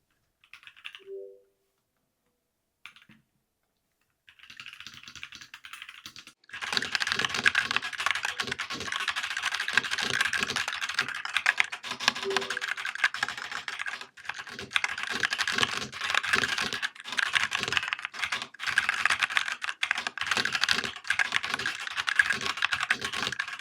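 Continuous fast typing on a hot-swappable mechanical keyboard at a home office desk, a steady dense clatter of keystrokes after a few brief isolated clicks and a short pause.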